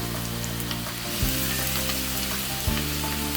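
Chicken, peppers and pineapple fry in a pan with a steady, close crackling sizzle, a couple of light clunks of the utensil breaking through the continuous frying.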